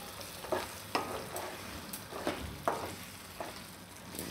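Fenugreek leaf and gram flour bhaji simmers in oil with a soft, steady sizzle, punctuated by several distinct stirring scrapes at irregular intervals, close and fairly quiet.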